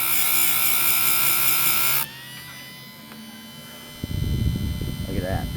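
A chainsaw chain sharpening machine grinds with a steady, high-pitched whine close by for about two seconds, then spins down to a low hum, with a brief rougher rattle near the end.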